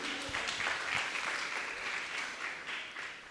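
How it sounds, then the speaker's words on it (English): An audience applauds a youth speaker at a Hindu youth summit opening ceremony in Guyana: steady, dense clapping from a crowd for about three seconds, easing slightly toward the end. "So give a round of applause for you,"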